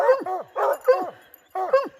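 Hunting dogs bark in a few loud, close bursts, with short howling yelps separated by brief gaps.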